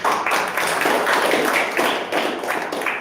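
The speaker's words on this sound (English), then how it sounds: "You have to clap." Audience clapping at a Toastmasters club meeting, a dense steady applause from a room of people lasting the full stretch, loud and close with no talk over it.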